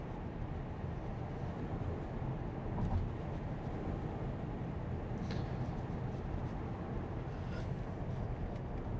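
Steady low road and wind rumble inside a Tesla on FSD 12.3.4 heading up onto the interstate, a constant faint drone with no talking.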